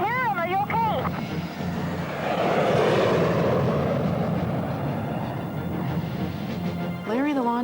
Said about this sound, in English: There's planes up there. We can hear them.